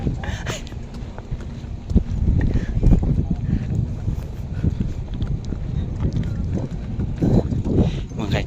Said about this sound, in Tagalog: first time na ako magsakay og kabayo